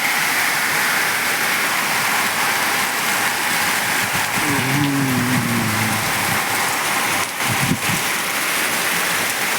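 Steady rain pours down over a farm in the monsoon season, a dense continuous hiss that stays loud and even throughout, with a few faint low tones and brief knocks partway through.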